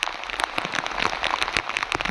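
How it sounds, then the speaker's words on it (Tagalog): Heavy rain during a flood in Sabang, Palawan, pours down steadily and close, a dense patter of drops striking surfaces with no talk over it. "Ah, grabe talaga ang ulan, no?"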